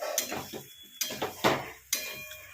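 A metal spatula stirs a potato and pointed gourd curry in a pan. It makes three or four distinct clanking scrapes against the metal, close and moderately loud, with no talking.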